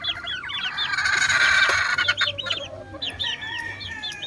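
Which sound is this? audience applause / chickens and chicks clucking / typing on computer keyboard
chickens and chicks clucking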